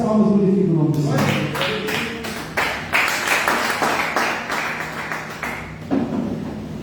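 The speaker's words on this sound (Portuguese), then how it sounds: "e as palmas glorificam o nome do Senhor" Congregation clapping in a church, a steady run of loud, rhythmic hand claps that starts after a trailing voice and keeps up for several seconds, with a brief dip and a final burst near the end.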